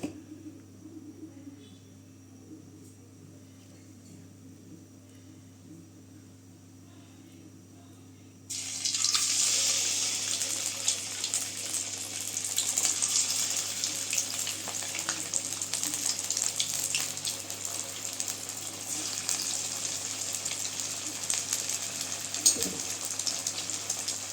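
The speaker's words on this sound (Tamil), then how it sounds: "எண்ணெய் நல்லா சூடாயிடுச்சுங்க இப்போ இந்த கத்திரிக்காயை போட்டுக்கலாம்" Eggplant pieces for Kathirikai 65 drop into hot oil in a kadai: after a quiet stretch, a sudden loud, steady sizzling hiss starts and keeps going close by.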